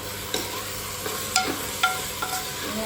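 Spoon scraping and stirring broccoli, mushroom and corn pulav in a pan, a few distinct strokes over a soft, steady cooking hiss.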